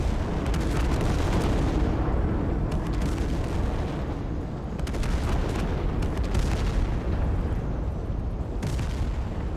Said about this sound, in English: And they got airstrikes coming in.